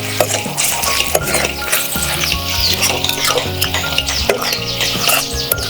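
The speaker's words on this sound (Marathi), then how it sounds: "हे सगळं आपण तेलात चांगलं परतून घेऊया" Spices and salt frying in oil as the base for a potato and brinjal curry, loud close sizzling with continual scraping and clattering of a spoon stirring in the pan.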